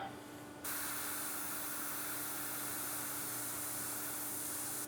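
An airbrush sprays paint in a steady, continuous hiss that starts abruptly after a brief quieter moment and then holds at an even level to the end, close and alone.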